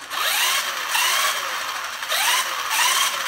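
Electric motor of an RC car revving during a throttle test with a budget 2.4 GHz radio, high whining bursts that rise and fall in pitch, repeated several times close up, no talking.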